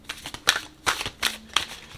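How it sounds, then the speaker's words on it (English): Oracle cards shuffled by hand for a love tarot reading, giving four or five crisp riffling bursts in a steady rhythm, close and fairly quiet, with no voices. "We're just going to shuffle"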